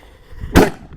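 A firecracker set off outdoors at night bursts once, sharp and loud and close by, with a quick fading tail.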